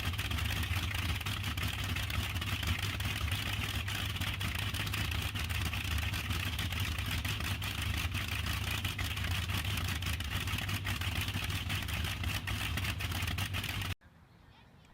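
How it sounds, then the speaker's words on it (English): A British Bristol Hercules Mk.734, an air-cooled 14-cylinder two-row sleeve-valve radial aircraft engine, runs with a steady, heavy low rumble and dense mechanical roar, holding constant and loud before cutting off abruptly at the end. "The Bristol Hercules Mk.734 was an early production variant of the Bristol Hercules, a British air-cooled 14-cylinder, two-row radial aircraft engine"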